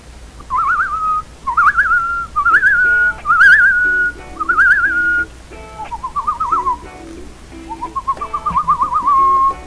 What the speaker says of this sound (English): Pillar whistles. The Toodle Toot whistles back.